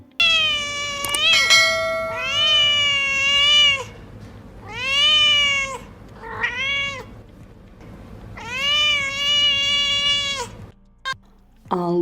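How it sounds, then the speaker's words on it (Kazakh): A cat meows loudly and close up, giving five or six long, drawn-out calls with short pauses between them, some wavering almost like a bleat. "Мысық мяу,"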